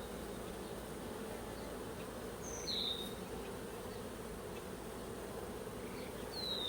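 A new swarm of honey bees, thought to be Russian, hums steadily at the hive, a faint continuous buzz with a couple of brief higher whines from passing bees.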